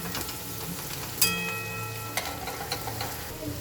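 Fried onions with salt are stirred in a pan, a soft steady sizzle with a few sharp scraping clicks of the spoon against the pan, quiet and close.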